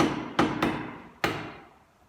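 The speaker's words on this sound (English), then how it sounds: "So yeah, take your time here when you're doing your chiseling." A chisel is struck with a mallet to cut a rebate in a wooden sliding-lid box, giving three sharp, close knocks: two in quick succession, then a third after a short pause, each ringing off briefly.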